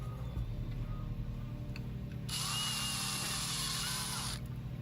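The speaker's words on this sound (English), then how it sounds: "So I'm going to use a drill bit. This is a 9/64." A 9/64 drill bit clears debris from a screw hole in a 3D-printed grenade launcher part, a quiet ticking at first, then a two-second high whirring drill run that stops abruptly.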